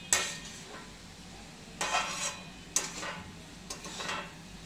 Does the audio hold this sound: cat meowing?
no